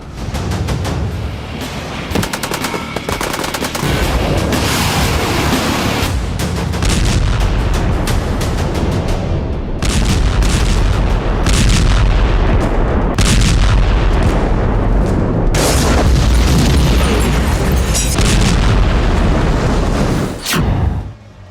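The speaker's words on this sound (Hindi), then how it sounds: "अनगिनत धमाके की आवाज से सीरिया दहल उठा" A long barrage of heavy explosions and booming blasts from air strikes in Syria, loud and continuous, with rumbling impacts overlapping one after another and no talking.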